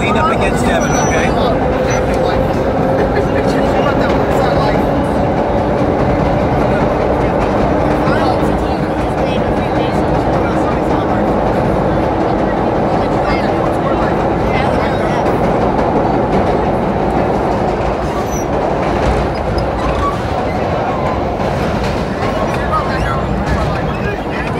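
A New York subway holiday train runs between 14th and 96th Street, a steady loud interior rumble with rail clatter and squeals throughout, passengers' voices mixed in.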